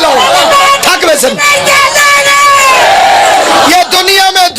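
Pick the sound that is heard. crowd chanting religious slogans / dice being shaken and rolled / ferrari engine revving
crowd chanting religious slogans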